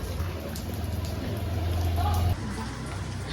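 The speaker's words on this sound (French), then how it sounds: "Parce qu'il pleut en fait." Steady rain falling outdoors in Hoi An, a dense continuous hiss of drops on surfaces close around, with a low rumble underneath that drops away near the end.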